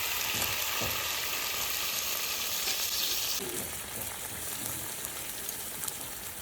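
Spiced water poured into a pan of cauliflower frying in oil, a loud steady sizzle and crackle that shifts and settles partway through, with no voices over it.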